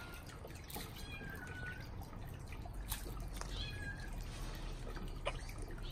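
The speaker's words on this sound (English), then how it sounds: "And then these little kittens," Young kittens meow in a few brief, high calls outdoors on a cold day near a koi pond, set against a steady bed of trickling water and background ambience.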